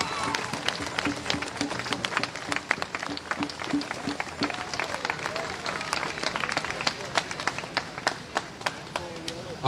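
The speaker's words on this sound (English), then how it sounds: "I need you to clap for our young black leader." A crowd at a street protest in Portland claps in sharp, irregular bursts that keep going for about ten seconds. The claps are close and fairly loud over outdoor noise, and voices talk and call out throughout.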